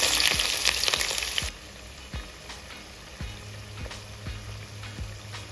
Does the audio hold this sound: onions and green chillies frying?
yes